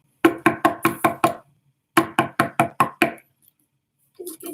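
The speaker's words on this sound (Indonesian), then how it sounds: "Dengan sangat marah, raksasa itu ketok pintu lagi." Knocking on a door in two loud, close bursts of about six quick raps each, a short pause between them, then a faint voice at the end.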